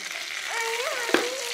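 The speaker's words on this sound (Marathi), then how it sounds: "त्या पद्धतीनं आपण हे मासे फ्राय करून घ्यायला लागलोय" Chilapi fish shallow-fries in oil with a steady, close sizzling hiss, crossed by a brief thin whining tone and a single sharp clink.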